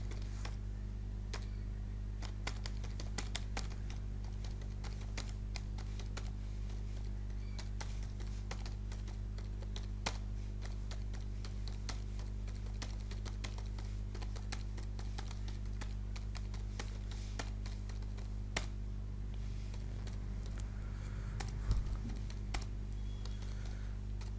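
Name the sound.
typing on a computer keyboard in MS Word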